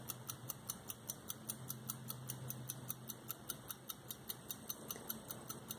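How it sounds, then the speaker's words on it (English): An antique 1910 open-face automaton pocket watch with a blacksmith scene ticks in a steady, even rhythm, crisp and close, about four ticks per second throughout with nothing else over it. "The watch has beautiful ticking sound"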